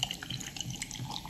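Grapefruit Italian soda poured into a glass, a soft, close trickle of liquid with faint fizzing and small dripping splashes.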